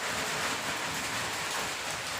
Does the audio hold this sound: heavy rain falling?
yes